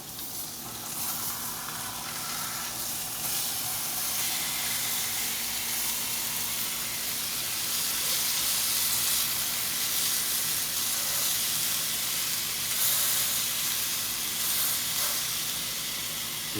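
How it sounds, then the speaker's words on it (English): Pork chops sizzle loudly and steadily in a hot pan, a dense continuous hiss of frying fat with no talk over it. "we've had our pork chops cooking probably about 4 minutes so far"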